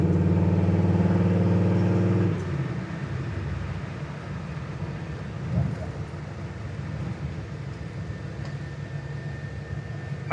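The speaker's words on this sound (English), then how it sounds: "especially with the way that exhaust sounds" A 1964 Chevrolet Impala with a classic V8 rumbles with a deep, throaty exhaust while driving, loudest for the first two seconds before settling into a steady engine and road drone.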